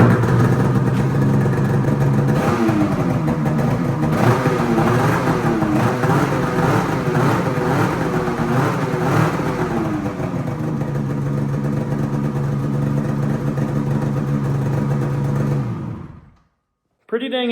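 A 2024 Polaris snowmobile fitted with a titanium Bikeman performance exhaust and charge tube starts up nearby. It idles loudly, revs in several rising and falling bursts, settles back to a steady idle, then cuts off abruptly.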